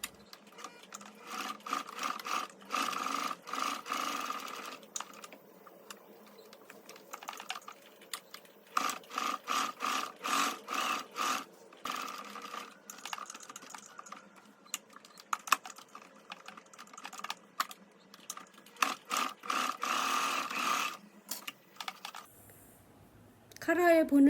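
Sewing machine running a top stitch along a double-button trench coat, close and steady, in repeated bursts of rapid needle chatter separated by short stops, with a faint clatter at the end.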